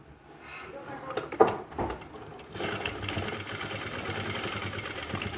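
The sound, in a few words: sewing machine stitching elastic into palazzo waistband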